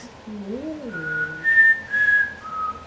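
A person whistles a short wavering tune, a few rising and falling notes followed by brief high sustained tones, close and clear.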